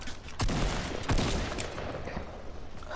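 Gunfire in the Fortnite Battle Royale video game, a dense burst of rapid shots with a couple of louder bangs, loud and close, continuing for the whole stretch.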